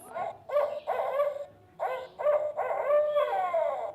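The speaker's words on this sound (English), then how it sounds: "That's a barred owl." A barred owl calls in several loud, close phrases of wavering, howl-like hoots over a few seconds, with short gaps between the bursts.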